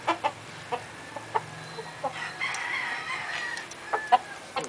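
Roundhead gamefowl rooster with two hens: sharp, repeated clucks and short calls scattered through, with a rooster crow rising in the middle, fairly close and unaccompanied by talk.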